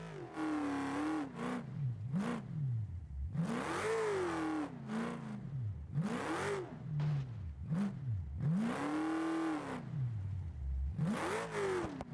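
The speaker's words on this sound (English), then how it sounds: "You can hear him just feathering the throttle, trying to keep this truck flat and even through all of this bumpy section." A truck engine in the BeamNG racing game revs up and down in repeated bursts as the throttle is feathered over bumpy off-road ground, rising and falling steadily for the whole stretch with no talk.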